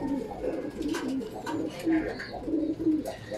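Racing pigeons coo repeatedly nearby in soft, low rolling calls, with faint rustling and other birds in the background.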